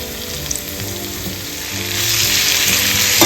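Ginger, garlic, green chili, spices and red onions stir-fry in a pan for a bitter gourd dish, giving a loud, close, steady sizzle that swells toward the end, with faint stirring underneath and no talk.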